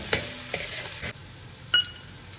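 Capsicum being sautéed in a pan for an Arabic chicken madhooth dish, a low sizzle broken by a few sharp spatula knocks and scrapes against the pan.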